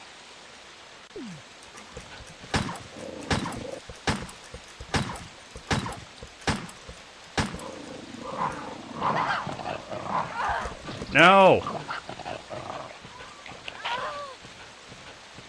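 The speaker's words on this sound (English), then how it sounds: "I hate dogs." Dogs in the Resident Evil game snarling and barking in a run of sharp bursts, followed by a rising howl-like growl, while a player talks over them.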